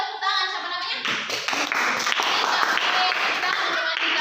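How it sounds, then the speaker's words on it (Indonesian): A classroom of students clapping for a fellow student, with irregular hand claps building into a sustained patter after a brief opening stretch, voices mixed faintly underneath. "tepuk tangan"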